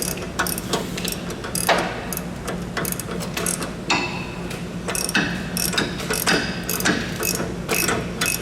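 A hand ratchet clicks in quick repeated bursts while tightening a front sway bar link nut on a Pontiac G8, close and crisp with brief pauses between strokes.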